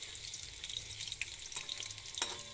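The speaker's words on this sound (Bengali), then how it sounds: "তো তেলের মধ্যে দিয়ে দিয়েছি, ফুলকপির পকোড়াটা ফার্স্ট ভাজা হচ্ছে।" Cauliflower pakoras fry in hot oil, giving a quiet, continuous sizzle with scattered small pops and crackles and no voices.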